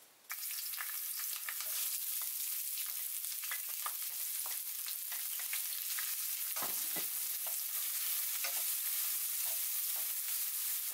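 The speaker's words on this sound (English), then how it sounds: "saute it until the shallots turns a little golden in color" Shallots, green chillies and curry leaves sauté in hot oil with a dense, continuous sizzle that stays close and even throughout, broken only by brief stirring scrapes.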